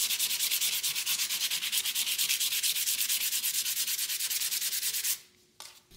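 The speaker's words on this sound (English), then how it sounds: "Then I'm going to switch over to a 220 grit, and this will be the final grit that I use before I start a wet sanding process." Steady back-and-forth hand sanding of a vintage bicycle part with 220 grit sandpaper, a rapid rhythmic rasping strokes close up and loud, continuing for about five seconds before stopping abruptly.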